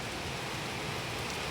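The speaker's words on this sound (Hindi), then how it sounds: "देखो बारिश, बहुत मज़ा आ रहा है बारिश देखकर" Steady rain pours outside during a quiet study session, a dense, even hiss of drops on surfaces with no breaks or voices.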